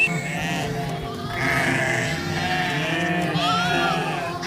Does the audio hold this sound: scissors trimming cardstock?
no